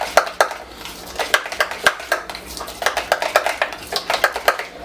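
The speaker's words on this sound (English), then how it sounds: "So give that a good stir" Shredded Kraft five-cheese blend is stirred into a lasagna filling in a dish, producing a close, steady run of scraping clinks and taps of a utensil against the container, with no talk.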